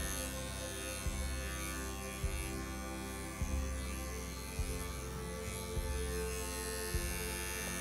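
Electric clippers shaving a dog's forearm fur during a field trim groom, a steady close buzzing hum with faint periodic bumps as the blade passes over the coat.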